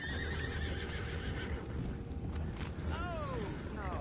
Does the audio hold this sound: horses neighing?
yes